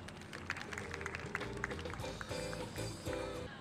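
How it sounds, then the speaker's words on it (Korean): Applause at an awards ceremony for a humanities concert, welcoming a student presenter: fairly faint, scattered clapping from a crowd, with some tonal background sound underneath. "큰 박수로 오시겠습니다."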